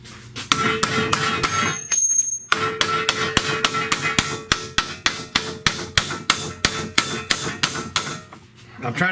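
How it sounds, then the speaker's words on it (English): Slow, evenly spaced hammer taps strike a lower ball joint on a Chrysler Sebring, close and sharp, about two blows a second with one short pause early on. "I'm just trying to tap it slow"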